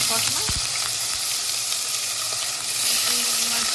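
Pork sizzling and frying in oil in a pan for a home-cooked dinner, a steady dense crackle with occasional scrapes of stirring, close and continuous, with a faint voice in the background.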